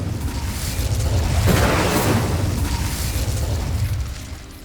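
A fiery Incendio spell blast in Hogwarts Legacy: a loud, close whooshing burst that swells and roars for a few seconds before tailing off, heavy in low rumble.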